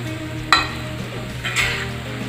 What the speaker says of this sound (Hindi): 3 से 4 मिनट तक हम चावल को इस सब्जी और मसाले के अंदर अच्छे से मिक्स करेंगे।